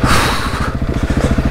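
An off-road motorcycle on sand, just after a hard hit in a deep downhill hole, runs loud and close with a rough, lumpy idle that pulses unevenly as it falters toward stalling.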